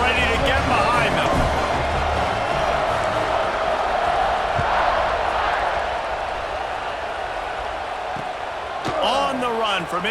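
A stadium crowd roars continuously in EA Sports College Football 26, a dense, loud wash of cheering that holds steady before a kickoff, with a play-by-play commentator talking over it.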